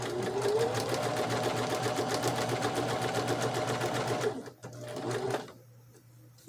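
A sewing machine runs steadily, stitching around a crazy quilt ribbon square of three fabric pieces, with a fast, continuous mechanical hum for about four seconds before pausing briefly and resuming.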